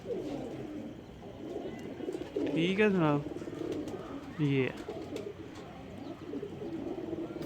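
Pigeons cooing at night in a loft, two clear throaty coo phrases rising above background noise, with someone speaking over part of it.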